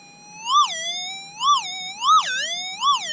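A warbling electronic tone from a Minelab SDC 2300 metal detector rises and falls in four repeated swoops, bright and steady, with no talking.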